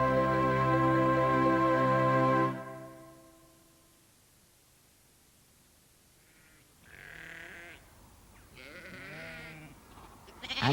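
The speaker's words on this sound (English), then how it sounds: "Do you think Auntie Ellie could be somewhere amongst all these ewes?" A flock of ewes bleats faintly in the distance, with two or three short wavering calls following a loud sustained musical tone that fades into near silence.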